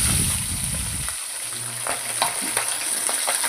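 Pabda fish goes into hot oil in a wok, a loud burst of sizzling that quickly settles into a steady crackling fry with small pops, no voices.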